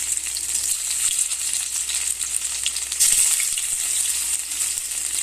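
Chital fish muitha dumplings fry in hot refined oil with a steady, bright sizzle, close and even, with a brief louder burst partway through and no voices.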